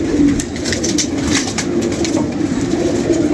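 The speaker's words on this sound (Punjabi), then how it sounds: "ਇਹ ਇਮਰਾਨ ਭਾਈ ਸਾਹਿਬ ਕਬੂਤਰੀ ਲੈ ਕੇ ਆ ਰਹੇ ਨੇ" A female pigeon coos close by in a steady, low, throaty murmur that runs without pause, with no talk over it.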